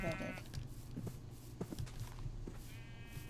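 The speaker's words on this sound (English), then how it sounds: "What is my sheep?" Two bleats from a sheep in the Minecraft video game, one at the start and one near the end, over soft clicking steps and low game ambience.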